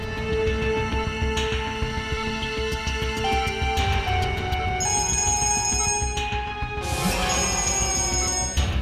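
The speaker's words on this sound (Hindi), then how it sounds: "बार बार फोन आ रहा है" A phone rings repeatedly against a dense musical background, its bright tones steady and loud throughout.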